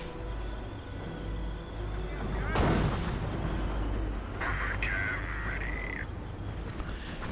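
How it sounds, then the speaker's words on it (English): An artillery barrage in a WWII real-time strategy game, with a sharp blast and rumbling booms over a steady low battlefield din, plus a brief whistling tone later, all moderately loud and without talk. "Another registered artillery barrage somewhere."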